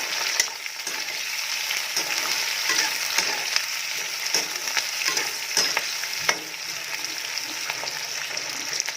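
Onions fry in hot oil with bay leaves, a steady crackling sizzle close by, broken by frequent light scrapes and taps of stirring, with no talk.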